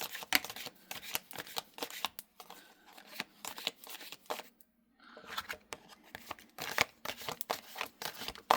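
Tarot cards being shuffled by hand, a run of quick papery riffles and soft slaps in uneven bursts with short pauses, close and fairly quiet, with no talking.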